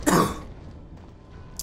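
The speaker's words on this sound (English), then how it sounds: "Sorry about the coughing." A single short, close cough or throat-clear bursts out at the start, followed by quiet room tone and a faint click at the end.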